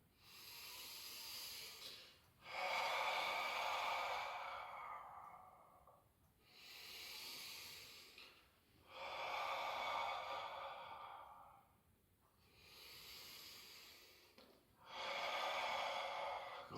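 Long exhaled breaths during an exercise workout, three drawn-out hissing breaths of about three to four seconds each with shorter inhales between, steady and close but fairly quiet.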